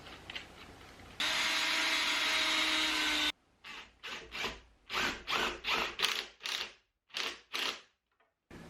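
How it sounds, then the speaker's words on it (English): A power drill pre-drills screw holes in wood for a camera gantry, first a steady whirring run of about two seconds, then a string of short bursts of drilling and rubbing, close and fairly loud. "now I'm going to pre-drill so I can put some screws in here just to hold this together"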